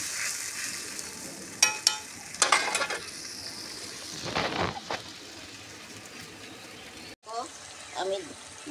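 Water is poured into a Bhola fish (trout barb) curry frying in a pan, with a sharp surge of hissing over the steady sizzle, a few pan clinks, and a voice briefly heard near the end.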